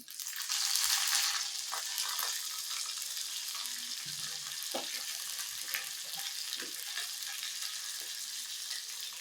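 Curry leaves hit hot oil in a tempering for Indian gooseberry chutney with a loud crackling burst, settling into a steady, close sizzle that continues throughout.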